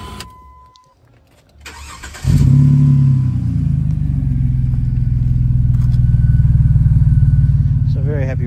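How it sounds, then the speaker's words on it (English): A Jeep KJ engine with newly modified exhaust starts up and settles into a deep, steady idle with a low rumble and slight rise in revs, close and loud, after a short quiet stretch with a brief spoken remark. "Car sounds awesome. Sounds a lot more like the black Jeep"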